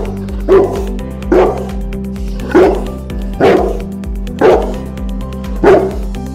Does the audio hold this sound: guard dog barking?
yes